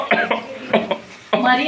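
Several short, sharp coughs from someone in a smoky kitchen while tomato curry is cooking, coming in quick bursts close to the listener.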